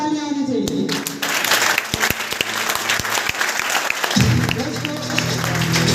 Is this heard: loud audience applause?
yes